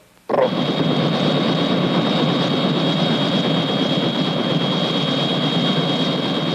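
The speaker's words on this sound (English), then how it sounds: "isn't that your helicopter over there?" A helicopter flies close by, its steady, loud engine and rotor drone starting suddenly and holding at an even level throughout with no talk over it.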